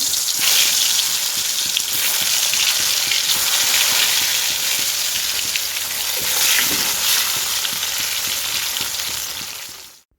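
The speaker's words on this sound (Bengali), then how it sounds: "এরকম গোল গোল করে কেটে আলুটা ভাজবো" Round potato slices fry in a pan with a loud, continuous, close-up sizzle that holds steady for about ten seconds before cutting off.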